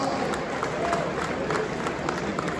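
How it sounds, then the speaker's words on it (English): Large audience applauding and cheering at a formal awards ceremony in a hall, a steady dense wash of clapping and crowd noise throughout. "please give him a resounding round of applause"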